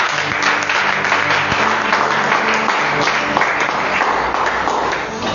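A church congregation applauds steadily after a prayer, dense continuous clapping filling the space at a constant loudness for the full stretch before tapering slightly at the end.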